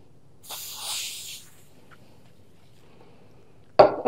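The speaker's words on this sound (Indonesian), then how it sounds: "Semprotkan dulu di apa? Di kain ini yang bersih." Stainless steel cleaner sprayed onto a clean cloth for wiping a fridge: a soft hissy spray burst early on, then a sharp short spray hiss near the end, with quiet in between.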